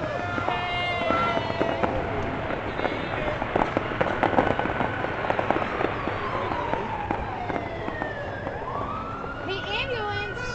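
Fireworks bursting over Seattle at a New Year's celebration, scattered crackling pops and booms through the whole stretch, mixed with a wailing siren sweeping in the background and people talking and cheering nearby.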